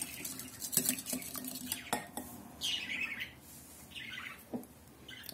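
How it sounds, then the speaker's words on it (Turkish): Two eggs are whisked in a mixing bowl for crepe batter, a utensil clicking and scraping against the bowl in quick uneven strokes, close and clear, with faint chirps behind. "İyice karıştırıyorum."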